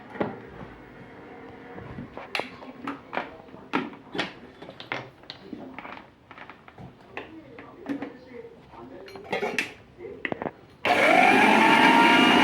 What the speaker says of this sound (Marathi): चला आता आपण मिक्सरमधून